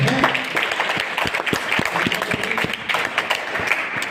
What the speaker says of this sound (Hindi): तो आज हम है ना ताली बजाना तो थोड़ा खुल के बजा लेते हैं